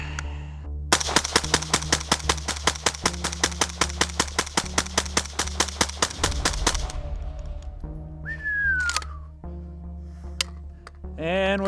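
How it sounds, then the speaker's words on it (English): Rapid string of about thirty loud rifle shots from a PSA Krink in 5.56, fired in a fast, even rhythm, then silence with a short whistle-like tone afterward. "And 30 round mag dump."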